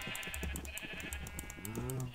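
Minecraft sheep bleat in short repeated calls across a couple of seconds, ending in a longer, clearer wavering bleat, close and prominent with faint background sound beneath.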